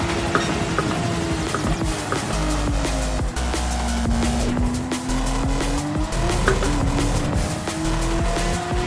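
A Porsche Cup race car at speed on a circuit, engine note rising and falling while the tires squeal loudly through corners, continuous and close, with no talking.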